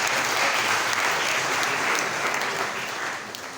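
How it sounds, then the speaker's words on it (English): Applause from a conference audience for a union chapter, a dense wash of many hands clapping at steady loudness with no voices over it, easing slightly toward the end. "A round of applause for the chapter, please."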